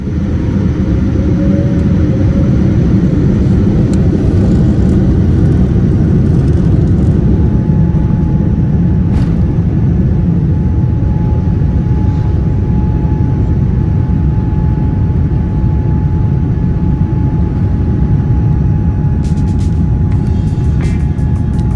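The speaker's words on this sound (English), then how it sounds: "Before long we pushed back and began our long taxi out to the runway at JFK." Inside an airliner taxiing out to the runway at JFK, a steady loud low engine rumble and cabin hum carries on throughout, with faint clicks near the end and no talk.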